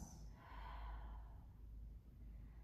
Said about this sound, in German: hauchen wieder aus.